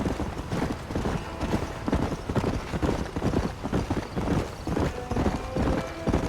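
Horse hooves clip-clop steadily at a riding pace in Red Dead Redemption on Xbox 360, a dense, continuous rhythm of close, moderately loud hoofbeats with a faint whinny possible and no talk.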